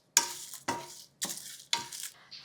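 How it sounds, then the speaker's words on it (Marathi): Coriander, cumin, dried coconut, red chilli, curry leaves and tamarind are dry-roasted on a tava, heard as four crisp, rhythmic scraping strokes with short gaps between them, close and clear with no voices. "चिंचेचं बुटूक घालायचं आणि हे सगळं एकत्र भाजायचं."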